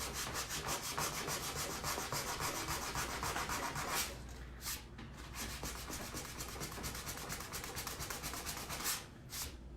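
Sandpaper rubs by hand across wood coated with several layers of vintage white paint, a steady close rasp of quick back-and-forth strokes with a brief break partway through before the scrubbing resumes.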